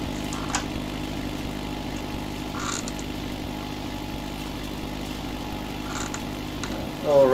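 Ford 5610 tractor engine running steadily while tedding hay, a low continuous drone at moderate distance with a few faint bursts over it and a louder swell at the end.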